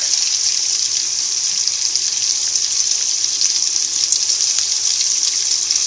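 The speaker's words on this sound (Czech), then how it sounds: "Pánev na bramboráky máme rozpálenou, takže tam dáme první bramborák" A potato pancake hisses in a hot frying pan, a steady bright sizzle that stays loud and even throughout with no talking.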